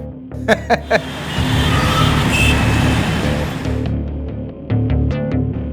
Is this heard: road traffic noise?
yes